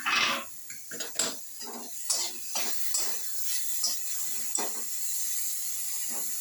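A metal lid lifted off a pot of simmering ridge gourd and tomato curry, sharp clinks and scrapes of metal against the rim over a steady steam hiss, close up with no talking.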